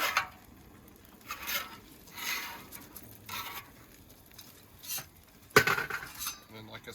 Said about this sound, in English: I can take my scraper and I can scrape all this liquid off of my cooked surface to my drain